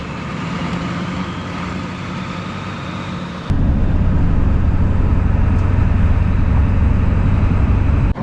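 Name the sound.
vehicle driving on a backcountry road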